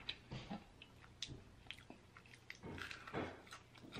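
Close-up bites and chewing of hot seafood boil food with a crunchy texture, several crisp crunches and wet chews spread over a few seconds, loud and intimate with no talking.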